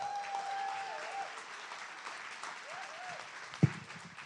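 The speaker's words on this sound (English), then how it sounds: "another round of applause for Jill." An audience at a ketogenic diet talk gives a round of applause, a steady, fairly faint wash of clapping that continues throughout, with one sharp nearby knock or thump near the end.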